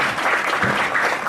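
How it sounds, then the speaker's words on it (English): Steady crowd applause at a high school graduation ceremony, dense and continuous clapping from many hands, fairly loud throughout with no voices standing out. "So let's give a big round of applause."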